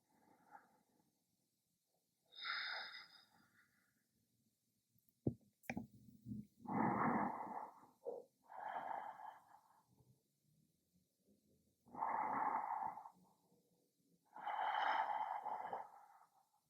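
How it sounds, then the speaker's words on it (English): Slow, deep belly breaths during a yoga flow come as soft, airy inhales and exhales in an even rhythm, close and quiet, with one brief rustle midway. "breathing into the belly once again"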